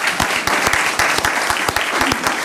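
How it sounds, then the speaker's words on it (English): An audience applauds warmly at a city council meeting, a dense, loud burst of many hands clapping with a few stronger individual claps standing out, steady across the whole stretch. "let's give you and your family a big round of applause."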